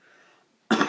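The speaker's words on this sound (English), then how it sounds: "I have to cough again" A man gives a single short, sharp cough close to the microphone, a sudden burst after a moment of faint background.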